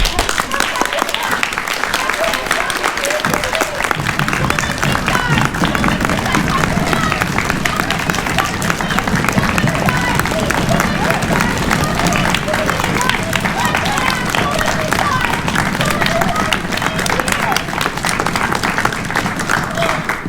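A theatre audience at a live stage performance of Peter/Wendy claps steadily and densely throughout, with crowd babble mixed in, a sustained wash of applause from many hands.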